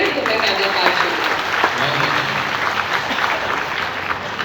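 An audience at a poetry recital breaks into sustained applause, dense clapping from a crowd that holds steady for several seconds with a faint voice underneath.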